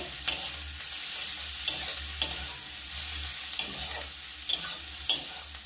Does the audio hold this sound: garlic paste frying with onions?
yes